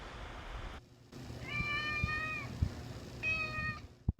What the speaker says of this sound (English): I think the cat likes it too.